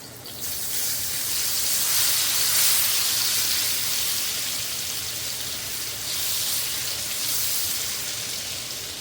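Garlic hitting hot oil in a reused pan for Guyanese bake and saltfish: a loud, broad frying hiss that swells after the first second and stays steady and close, with no voices.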